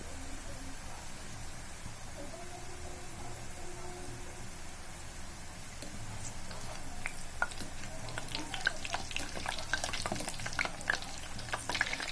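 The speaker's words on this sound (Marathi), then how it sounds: "आता आपल्याला त्यामध्ये हे मोदक तळून घ्यायचे आहेत" Modak dumplings frying in hot oil in a kadhai, a steady soft sizzle running throughout that grows slightly busier toward the end, with scattered crackles and light pops.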